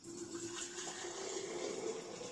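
Tap water running steadily into glass canning jars to sanitize them, a continuous gushing, filling sound with a rising tone, close and fairly quiet, no speech over it.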